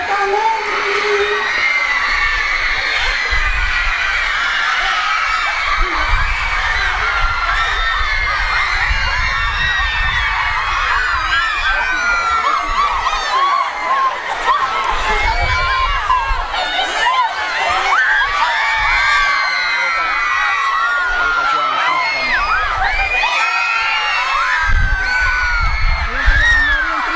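A large crowd that has waited for hours cheers, screams and shouts continuously, with many high excited voices, children among them, loud and close throughout.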